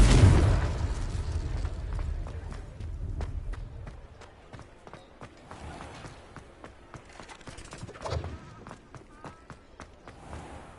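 Confringo blasting spell in Hogwarts Legacy erupts in a loud opening burst, then fades under scattered crackles, footsteps and a smaller blast near the end.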